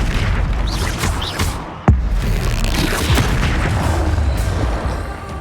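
Fire spell blasts in Hogwarts Legacy combat: a sharp, loud boom near the two-second mark stands out from dense, continuous battle noise with scattered cracks and bursts.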